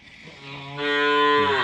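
A cow lowing loudly and close, a single drawn-out moo that swells in strength partway through, heard alone without any talk.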